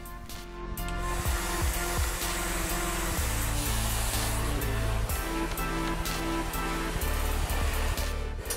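A hair dryer blows steady, loud heat onto a lock of hair being shaped for a faux brushing hairstyle, with a continuous roar throughout and small shifts in tone as the airflow moves.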